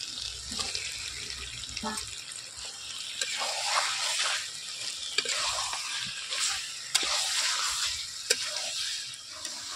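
Chicken curry with fried potatoes and crushed whole black pepper sizzles steadily in a pan, close and continuous, with scraping stirring strokes and occasional sharp utensil clicks against the pan.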